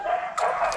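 Puppies bark and yip in a short, high, close flurry at home, the cries overlapping and rising slightly in a fraction of a second.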